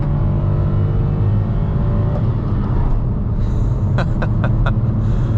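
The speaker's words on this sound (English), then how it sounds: "There's a lot of road noise in this car." A 2022 Toyota Aygo X's small engine pulls steadily while accelerating under a constant low rumble of road and tyre noise, with a few brief clicks near the end.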